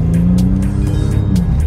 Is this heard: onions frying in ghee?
no